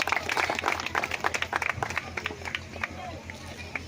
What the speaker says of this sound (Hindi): आप लोग तालियों से स्वागत करने का काम करें।